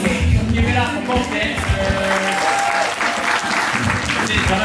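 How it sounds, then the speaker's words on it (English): An audience claps and cheers at a dance battle, dense applause with whoops from a crowd filling the space, a voice calling out briefly over the noise. "clap for both"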